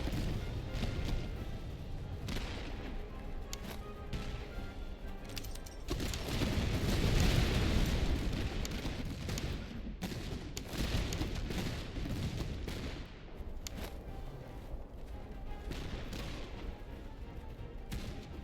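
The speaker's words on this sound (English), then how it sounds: "It's not a good thudding volley." Musket volleys crackle and boom in the Master of Command strategy game, a dense continuous roll of gunfire with heavier swells of massed fire, loud and sustained throughout without talk.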